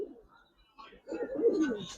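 Giribaz pigeons coo softly nearby, a low rolling burble that swells in the second half after a faint earlier call, heard alone with no talk.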